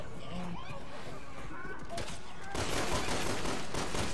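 Dense, rapid gunfire from the video game Resident Evil 6 rattles in steady bursts, then swells louder and fuller for the final stretch, with a voice faintly in the mix.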